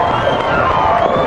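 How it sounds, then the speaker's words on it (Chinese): A studio audience on a TV variety show cheers and claps to welcome a guest; the crowd noise is loud and steady for a brief moment, with shouting mixed in. "掌声欢迎某某。"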